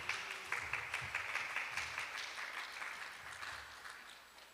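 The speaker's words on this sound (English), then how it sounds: "Let's give a big round of applause for Ananda Madhava." Applause from a modest audience at a spiritual talk session, a steady patter of many hands clapping that gradually fades, heard fairly faintly and alone.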